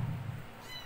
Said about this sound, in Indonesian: Ketemu kucing lagi, Be.